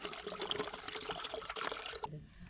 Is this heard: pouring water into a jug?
yes